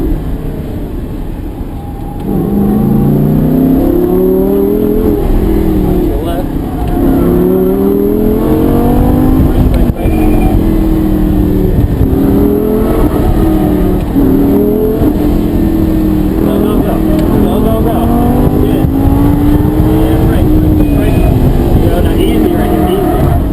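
A Lamborghini sports car engine accelerates on a race track, its loud, steady drone rising and falling in pitch through gear changes over nearly the whole stretch, heard from inside the car.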